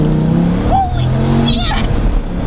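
A Dodge Viper roars under hard acceleration, a loud continuous engine drone that climbs in pitch, with excited voices exclaiming over it.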